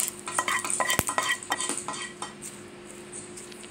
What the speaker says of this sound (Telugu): చట్నీ పౌడర్లో కలిపేసుకుంటున్నాను.